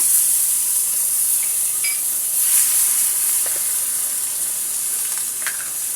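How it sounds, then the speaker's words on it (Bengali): Onion paste sizzles and spits in hot oil, a constant bright frying hiss with a few faint clinks, close by and without talk. "তেল গরম তেলের মধ্যে আমি এখন পেঁয়াজ বাটা দেবো"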